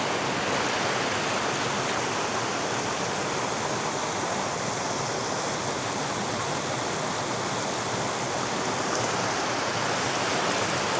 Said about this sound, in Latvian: esam nonākuši vietā, kur tas strautiņš paliek vien platāks un platāks